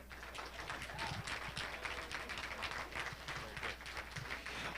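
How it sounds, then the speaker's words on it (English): Applause from an audience after a presentation on a criminal justice campaign, a sparse, fairly faint patter of individual claps with a low steady hum underneath. "If you could give one more round of applause"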